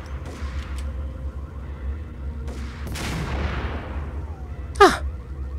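Gunfire in the video game Max Payne, a couple of sharp shots and a long booming blast that trails off, with a short high squeal near the end over a low background hum.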